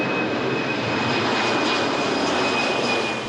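A steady, loud roar of an airplane engine overhead a neighborhood beside Congonhas Airport in São Paulo, broadband and continuous with a faint high whine, no voices.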